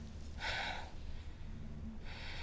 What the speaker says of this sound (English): Let your breathing slow down.